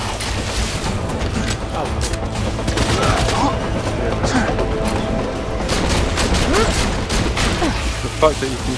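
Rapid gunfire crackles in Borderlands 2, a busy stream of quick shots mixed with booms and clattering game effects, fairly loud throughout with a sharp spike near the end.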